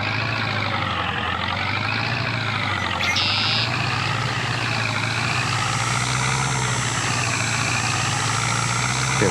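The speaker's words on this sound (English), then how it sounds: "I'm having a hard time just backing this thing up a hill" A farm truck reverses up a hill in Farming Simulator with a loud, steady engine drone throughout and a brief high backup beep near the start.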